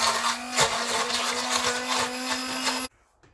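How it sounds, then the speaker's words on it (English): A blender roars steadily close by for a few seconds, whirring through cooked mushrooms to make a thick sauce, then cuts off abruptly. "now I'm going to use this blender to make it into like a thick sauce."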